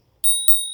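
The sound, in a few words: bell on a VeeGo fat tire e-bike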